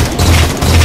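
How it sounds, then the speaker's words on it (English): Grenade explosions boom and rumble loudly in Halo 4 combat, a thick, deep burst of blasts filling the whole moment with no talking. "Grenades."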